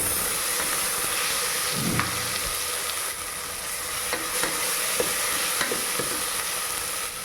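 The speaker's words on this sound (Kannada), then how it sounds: "ಈರುಳ್ಳಿ ಚೆನ್ನಾಗಿ ಸ್ವಲ್ಪ ಫ್ರೈ ಆದಮೇಲೆ ನಾನು ಶುಂಠಿ ಬೆಳ್ಳುಳ್ಳಿ ಹಾಕ್ಕೊಳ್ತಾ ಇದ್ದೀನಿ" Coarsely ground ginger and garlic frying with onions in a pan for egg biryani, a continuous loud sizzle with occasional scrapes of stirring, no voices.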